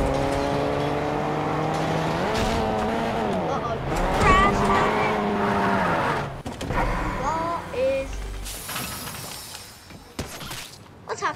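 A red car drives in the Fortnite video game, its engine tone rising and falling with gear-like sweeps, followed by crashes and clattering impacts while players talk over it.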